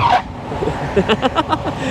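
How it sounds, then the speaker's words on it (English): A hard braking squeal from a Power GOAT v2 e-bike, with a bright tonal screech at the start, followed by rhythmic juddering pulses as the bike shudders to a stop. "I love slamming on the brakes on this bike. They sound like a big semi truck."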